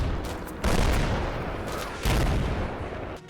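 Heavy gunfire rattles through a Combat Mission battle as Marines cut down BMP crewmen bailing out of their vehicle, with dense overlapping shots and booms in two loud bursts, no talking.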